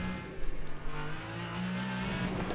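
Race car engine in the Le Mans Ultimate racing game, a raw droning roar with a rise and fall of revs and a steady tone after that, at moderate level.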